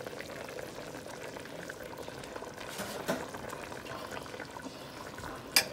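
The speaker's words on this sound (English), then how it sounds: "I poured it all over the oxtail, and I'm just going and doing a little stir." Sauce poured over oxtail in a pot for a Jamaican-style dish, then stirred, giving a steady bubbling, liquid sizzle throughout with a small clink near the end.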